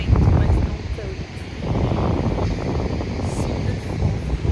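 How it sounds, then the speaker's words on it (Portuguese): Steady wind at the seaside near a pier on the Dutch coast in The Hague, a constant low rumbling blow with gusty buffeting across the whole stretch and no voices. "tá vento, mas não tanto."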